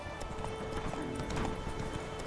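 Hooves of Geralt's horse Roach clip-clop steadily in The Witcher 3, a quick, even rhythm of soft hoofbeats over faint ambient game sound.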